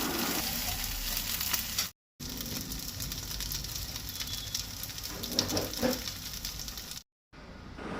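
Squid pieces (mankyo) frying in a pan for a Goan fish thali, giving a loud, continuous crackling sizzle with small pops, broken by two brief silent gaps.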